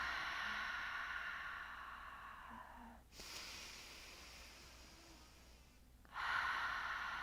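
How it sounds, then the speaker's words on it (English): A slow, deep breath pushed out through the mouth during a relaxing yoga breathing exercise, soft and close, fading away into near silence before another breath starts. "Exhale out through the mouth."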